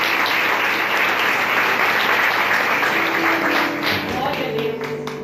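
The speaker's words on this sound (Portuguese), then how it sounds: "Você pode aplaudir sim o Senhor Jesus." A church congregation applauds, dense continuous clapping that holds steady for several seconds and eases slightly toward the end, with no voices over it.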